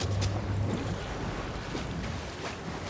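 Ocean waves and churning surf rush and wash continuously, with wind noise buffeting the microphone throughout.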